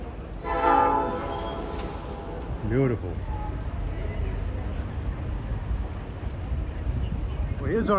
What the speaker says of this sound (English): Train will stop and the engineer will blow the horn once.